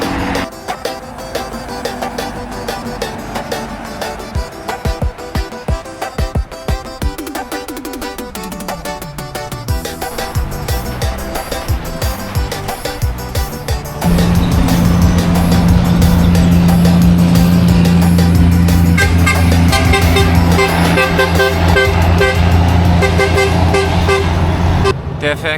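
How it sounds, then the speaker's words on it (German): Heavy trucks and other vehicles pass one after another on the busy main road to Curitiba, a continuous loud roar of engines with horn toots and a deep droning rise as a large truck comes close. "Das ist wirklich die Geschwindigkeit, in der hier die LKWs nacheinander kommen."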